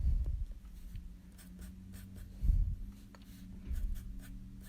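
A pencil draws bearded dragon spikes on paper, giving soft close scratchy strokes in short irregular bursts with a few louder stroke thumps.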